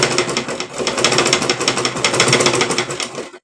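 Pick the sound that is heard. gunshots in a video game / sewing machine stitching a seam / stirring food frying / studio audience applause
sewing machine stitching a seam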